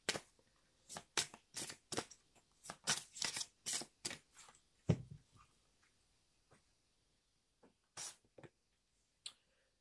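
Oracle cards are handled and shuffled close by in a quiet room, giving a run of sharp riffles and slaps that thins out into a few isolated taps.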